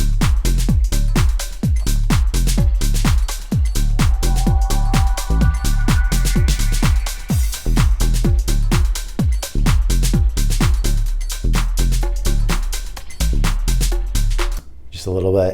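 A minimal house track loop, an early idea, with a steady punchy kick and clipped percussion driving a tight repeating groove, loud and continuous before dropping out abruptly at the end.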